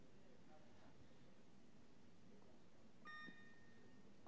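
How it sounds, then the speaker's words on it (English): At a weightlifting competition, a 30-second buzzer sounds as a short, faint electronic tone over a hushed, noisy arena hall. "there's the 30-second buzzer."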